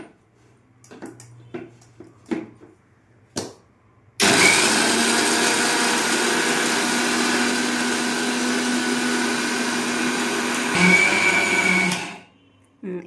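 An Indian mixer grinder grinding chutney powder with a loud, steady, high-pitched whir that runs for about eight seconds and then stops, preceded by some handling clatter.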